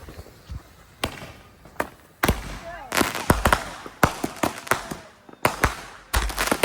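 Backyard Fourth of July fireworks set off in the rain: a string of sharp firecracker-like pops and bangs, irregular and fairly close, some in quick clusters, with the crackling growing busier midway and people's voices faint in the background.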